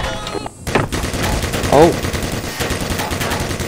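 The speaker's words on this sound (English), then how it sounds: "Well, they got a turret. Why is there a turret on us?" An automated turret in the game Black Mesa sprays rapid gunfire at close range in sustained bursts, loud and continuous, with a short exclamation from a player partway through.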